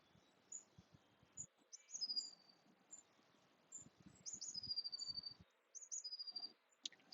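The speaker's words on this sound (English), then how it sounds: "And then you can hear the birds also, and maybe the wind in the trees" Birds chirp and trill outdoors, faint and spread apart, with short high calls repeating among soft insect-like clicking over a quiet background.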